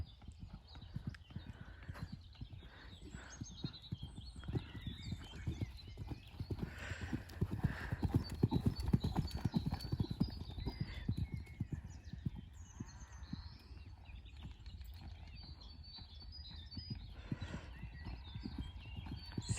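Horse hooves clip-clopping on the ground during a riding and jumping lesson, a steady rhythmic gait heard from moderate distance with occasional snorts and faint voices in the background.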